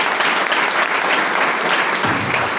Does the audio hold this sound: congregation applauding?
yes